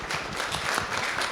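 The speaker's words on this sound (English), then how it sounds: "I think that deserves a round of applause." An audience at a live interview event gives a round of applause, a steady wash of clapping at moderate volume heard from within the room.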